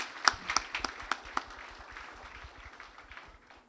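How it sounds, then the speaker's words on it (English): Scattered hand claps at a 2023 Hindu school graduation ceremony: a few distinct claps early on, then the applause thins and fades into quiet room noise. "Let's give them a round of applause."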